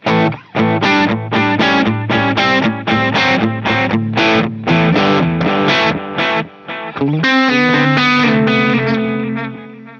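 Electric guitar played through an Axe-Fx processor with an echo effect, a driven, distorted tone of rapid picked chords and notes that ring into repeating echoes, loud and steady for the whole stretch.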